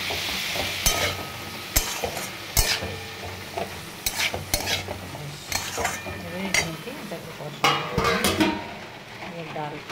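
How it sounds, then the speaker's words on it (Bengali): Curry being sautéed in a pan over low flame with chopped tomato, salt and a splash of water, giving a soft sizzle broken by repeated sharp scrapes and clinks of a spoon against the pan, with some voice in the background. "অল্প জল দিয়ে কষাবো"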